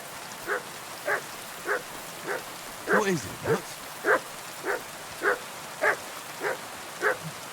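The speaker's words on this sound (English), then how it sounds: "What are you barking about?" A dog barks repeatedly in Kingdom Come: Deliverance II, a steady series of sharp, evenly spaced barks over faint rain-like ambience, with a brief spoken question partway through.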